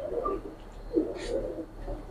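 Chinese Teddy pigeon, a female, gives a few soft, low coos close by, in short rounded bursts over a faint background hiss.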